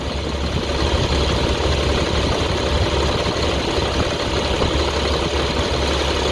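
A damaged Caterpillar diesel engine with an exhaust manifold issue idles steadily up close, a constant low rumble with a faint mechanical rattle and no voices over it.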